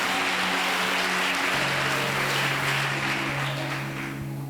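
A church congregation applauds and cheers loudly and steadily, a dense wash of clapping and voices with a sustained tone held beneath it, easing off slightly toward the end.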